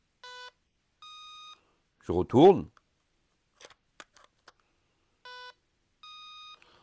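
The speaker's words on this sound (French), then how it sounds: "On entend deux bips." A small battery-powered device, a battery tester, gives paired electronic beeps, two short tones, then two more later, clean and close, with a brief spoken phrase and light handling clicks in between.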